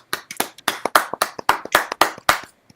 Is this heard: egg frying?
no